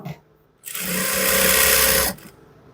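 A sewing machine stitches the hem of a baby boy's half pants in one fast, steady burst of whirring that lasts about one and a half seconds, with quiet pauses before and after.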